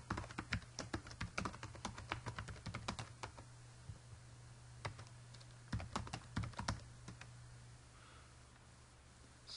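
Someone types a username on a computer keyboard while signing in, with quick, close, crisp key clicks arriving in irregular bursts and short pauses between them.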